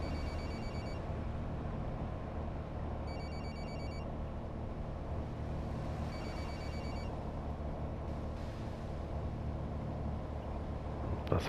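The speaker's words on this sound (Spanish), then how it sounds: "Pasajero, le suena el teléfono." A phone rings aboard a coach in Fernbus Simulator on a route through France: three evenly spaced bursts of electronic ringing, faint above the steady low rumble of the bus engine and road.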